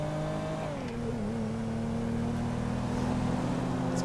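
A car engine in a video game revs hard and holds a loud, steady roar as it accelerates, the pitch dipping once before settling into a sustained drone.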